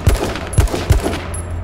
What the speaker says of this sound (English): That guy that's moving up is getting shot up.